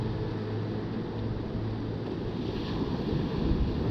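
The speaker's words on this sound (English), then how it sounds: "Wait for the waves to come." Ocean waves wash onto Amroth Beach in a steady, rushing roar, with wind buffeting the microphone and a slight swell in loudness toward the end.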